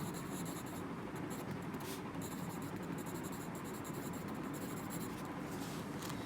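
Pen scratching steadily across paper while a diagram of fibrous dysplasia and ossifying fibroma is drawn, a continuous faint scraping with small breaks over a constant background hiss.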